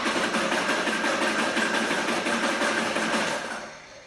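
V8 engine with breaker-point distributor ignition cranking during a dwell test: a close, rapid, evenly pulsing churn that holds steady for several seconds before fading out.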